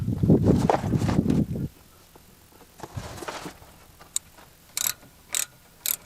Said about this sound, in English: First I'm going to loosen this one bolt